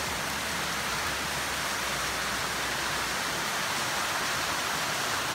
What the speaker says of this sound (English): There's massive wind and everything is going sideways and quite a lot of rain.